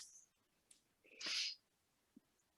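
A single sharp sneeze bursts out nearby, preceded by a quick inhale and followed by quiet; no one speaks.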